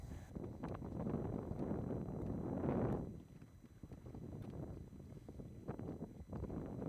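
Wind rises over open water during a bass fishing trip, a rushing, buffeting roar close on the microphone that swells for a few seconds, drops, then picks back up in gusts.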